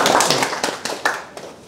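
A short burst of scattered hand claps comes from an audience at a gathering in Khulna, sounding like a handful of separate, uneven claps rather than full applause.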